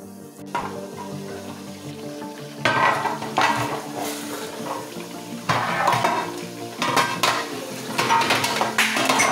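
Egusi melon seed soup fries in a pot, a steady sizzle broken by repeated bursts of a utensil scraping and clattering against the pot as it is stirred.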